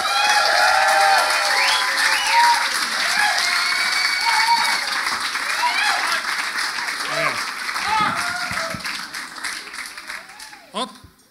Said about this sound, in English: So give a big round of applause for Eoghan.